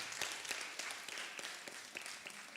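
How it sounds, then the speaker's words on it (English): A short burst of applause from a group at weekly bhajans, dense overlapping claps filling a couple of seconds at a moderate, even level. "Can we please have a round of applause for those 3 children?"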